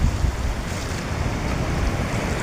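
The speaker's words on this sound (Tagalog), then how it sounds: "Hampas ng mga alon" Ocean waves on a Palawan shore produce a steady, loud, broadband wash of surf mixed with wind noise on the microphone, with no voices.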